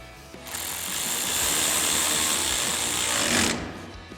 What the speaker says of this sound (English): use our original 13mm bolt right here on the end and tighten it down with our 13mm socket